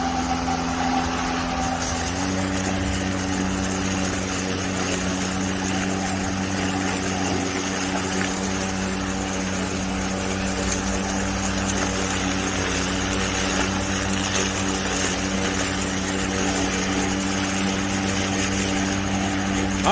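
A DeWalt self-propelled lawn mower running, a steady, loud motor drone with a slight pitch shift early on, then holding a constant tone with broadband noise throughout, no speech.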